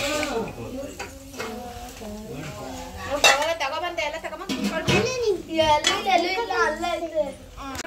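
Plates and cutlery clink and clatter at home, in a busy family scene with children chattering and playing over the steady rattle of dishes.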